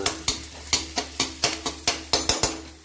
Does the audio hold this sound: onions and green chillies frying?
yes